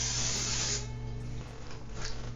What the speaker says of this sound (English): we're going to take our cooking spray and spray the bundt pan